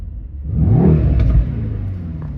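A Mercedes E63 S engine in Sport Plus mode revs up and settles into a steady rumble, with a few sharp crackles and pops from the exhaust mid-rev; no one speaks.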